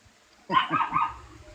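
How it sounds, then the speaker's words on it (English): A dog gives a single short, close bark-like yelp lasting about half a second, rising sharply out of near silence and fading quickly. "Shut up, dog"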